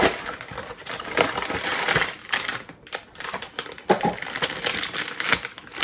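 A small resealable plastic package of little screws is handled close by, giving loud crinkling and crackling with a few tapping clicks in uneven bursts.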